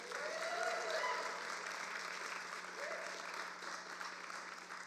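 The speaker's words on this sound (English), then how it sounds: "Please give Patrick a warm round of applause." Rally crowd applauding Patrick, a sustained wash of clapping heard from some distance with a faint background hum, a few scattered voices and whistles rising briefly within it.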